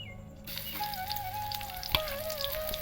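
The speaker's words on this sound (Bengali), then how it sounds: "তেলটা ভালোভাবে গরম হয়ে গেলে আমি দিয়ে দেবো পেঁয়াজ" Onion drops into hot mustard oil and bursts into a sudden, loud sizzle after a brief quiet start, then keeps crackling steadily.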